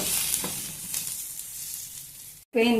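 Raw banana slices fry in hot oil in a pan, giving a steady, close hiss and crackle that fades slightly, breaks off briefly and then returns louder for a moment.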